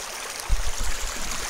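Water rushes steadily at a gold sluicing site on an Arizona claim, a continuous broadband wash with low gurgling swells, moderately close and with no voices.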